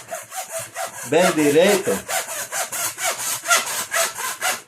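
Hand saw cutting through a tube for a homemade wood-effect roller, heard as steady back-and-forth strokes in a regular rhythm, loud and close, with a voice speaking briefly over the sawing.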